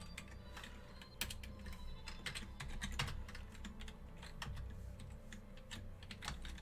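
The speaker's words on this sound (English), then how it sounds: "I think I need to start typing this out." Rapid, steady typing on a computer keyboard, close and clear, with uneven clusters of sharp key clicks and occasional louder thocks over a low background hum, with no talking.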